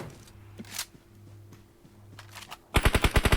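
Automatic gunfire in PUBG Mobile on the Livik map: scattered shots and game sounds first, then a loud, rapid close-range burst of about eight shots at the end.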